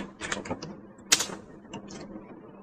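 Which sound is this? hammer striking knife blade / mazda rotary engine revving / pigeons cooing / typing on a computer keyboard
typing on a computer keyboard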